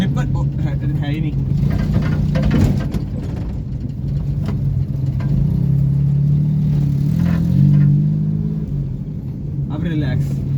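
Close, continuous engine rumble from a Suzuki Khyber car, rising and falling as it revs while drifting, with voices talking over the motor.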